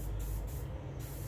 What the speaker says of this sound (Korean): 콤프 돌리고, 부스도 돌리고, 부스 안 켜졌다. 부스도 켜야지.